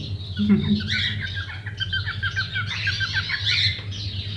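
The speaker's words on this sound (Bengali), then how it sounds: "মেল পাখিটা কিন্তু ডাকছে" A male bird calling in an aviary of cockatiels and finches, rapid repeated squawks and whistling chirps close by, with a person talking over them.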